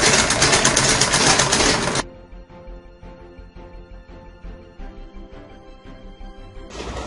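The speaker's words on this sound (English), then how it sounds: "You lock the stitch at the beginning, then you continue sewing." A sewing machine stitches a seam on an A-line long skirt, a steady rapid mechanical ticking at a close distance, framed by loud broadband rustle or noise at the start and end.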